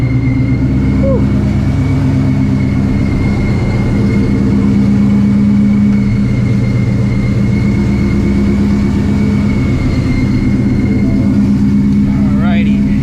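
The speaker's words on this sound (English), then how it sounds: "Gonna let the engine warm up" A 900-horsepower Shelby GT350 with a damaged clutch idles steadily while warming up, a loud, even low rumble with constant harmonic drone throughout and no revving.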